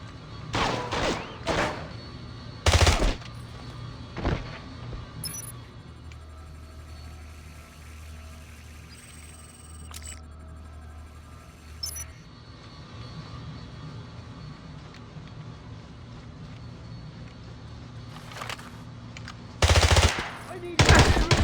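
Gunfire in the video game James Bond 007: Blood Stone: sharp bursts of shots at the start and end with a droning engine rumble and faint shouts in between.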